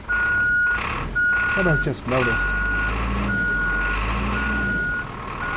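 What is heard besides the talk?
Isuzu truck started and moved, reversing beeps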